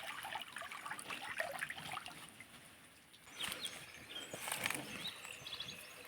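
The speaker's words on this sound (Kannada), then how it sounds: "ಪೈಪು ತೂತಾಗಿದೆ, ಅಲ್ಲಿಂದ ನೀರು ಬರ್ತುಂಟು." Water trickling and dribbling from a hole in a pipe outdoors, a faint irregular splashing with bird calls in the background and a louder gush partway through.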